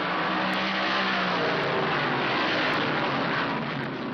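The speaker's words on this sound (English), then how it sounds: "Arnelli Jones stands on it right from the start, sprinting away from the field with Mark Donahue directly behind him" Trans Am race cars roar off the start at Watkins Glen in 1970, a dense, loud wall of engine noise sustained throughout with no break or talk.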